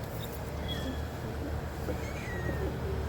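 A house cat meows faintly a few times over a steady background rumble, thin drawn-out calls that stay distant and soft.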